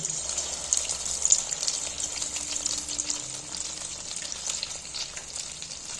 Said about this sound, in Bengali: এইটাই এবার এবার এই যে তেলে ছেড়ে দেবো